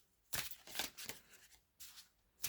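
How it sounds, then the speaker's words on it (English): Tarot cards riffle in quick, crisp bursts as a small deck is shuffled by hand, close and quiet, with several short flurries separated by brief pauses. "give them a quick little shuffle"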